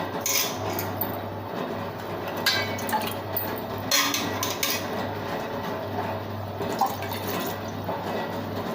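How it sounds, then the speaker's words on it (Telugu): Water is poured from a glass into a bowl in a kitchen, producing a steady trickling, splashing stream with occasional light clinks of utensils and dishes, close and continuous throughout. "ఆ గ్లాస్తో 2 గ్లాసులు వాటర్ పోసుకోండి."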